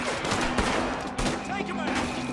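Rapid gunfire bursts from a Red Dead Redemption 2 shootout, loud and continuous across the moment, with shots cracking over dense game noise and some faint voices.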